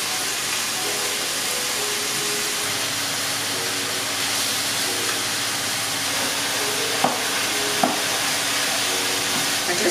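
Food seasoned with paprika and taco spices fries in a pan, a loud continuous sizzle with a low steady hum and a couple of sharp clicks near the end.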